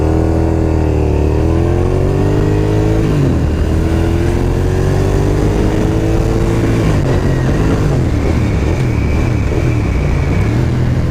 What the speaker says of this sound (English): Alright, SV650, pretty cool bike.